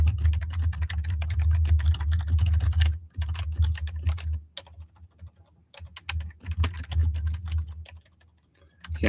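Rapid, continuous typing on a computer keyboard, close and fairly loud, with brief pauses between bursts of keystrokes and a low hum beneath.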